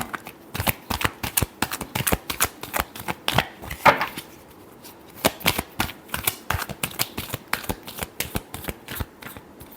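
A deck of tarot cards is shuffled close-up in rapid riffling bursts of crisp flicks and snaps, with brief pauses between runs and no voice.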